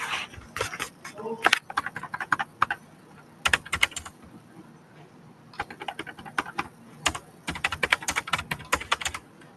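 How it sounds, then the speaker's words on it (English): Rapid bursts of computer keyboard typing come in clusters separated by brief pauses, fairly close and clear, with soft background noise. "I'm just typing out."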